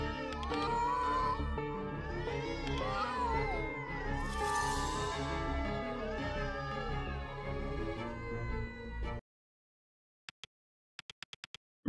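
Cats in an Indonesian video game meow and yowl in overlapping, wavering cries, several voices at once and fairly loud, then cut to near silence broken by a few faint clicks.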